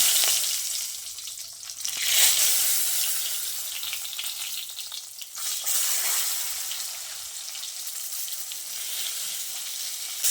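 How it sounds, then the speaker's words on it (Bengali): Eggplant pieces fry in hot white oil in a wok, a loud bright hiss of sizzling that surges as they go in and then settles into a steady spattering crackle. "আর তেল ভালোভাবে গরম হয়ে এলে বেগুনগুলোকে দিয়ে দিচ্ছি।"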